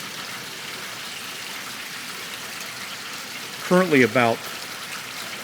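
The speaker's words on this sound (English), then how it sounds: "They're calling for this rain until about 2 p.m." Slow, steady rain falls as a soft, continuous wash of patter throughout, with a person speaking briefly near the end.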